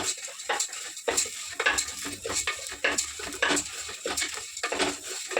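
Toor dal with cumin and coriander seeds frying lightly in oil for Andhra-style gongura dal, a soft sizzle under repeated scraping and clinking of a spoon against the pan, with no voices.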